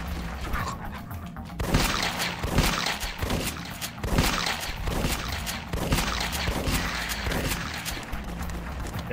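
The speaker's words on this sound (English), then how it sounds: "Now he's shooting." Rapid gunfire from The Last Stand 2 video game, loud dense bursts of shots and impacts rolling continuously with only brief lulls, no talking over it.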